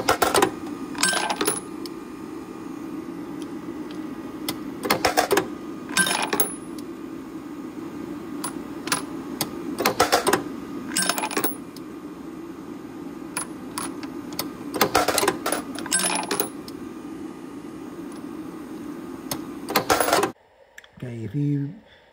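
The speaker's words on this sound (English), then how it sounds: "Make sure everything's turned on and just let the machine go." A Burstfire induction annealer runs steadily with a loud hum, while brass cartridge cases drop out in bright metallic clattering bursts every few seconds, and the machine stops near the end.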